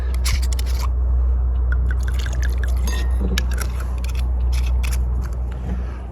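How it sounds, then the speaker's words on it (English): Two ounces of Lillet poured into a martini shaker full of ice outdoors by a lake: a steady liquid trickle with scattered sharp ice clinks over a constant low hum. "I got a martini shaker full of ice, and we're going to go 2 ounces of Lillet"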